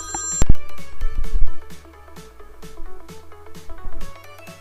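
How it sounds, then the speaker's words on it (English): Electronic telephone ringtone in a quiet room, a repeating melodic ring with regular rhythmic pulses that rings several times close by. "Bloody phone."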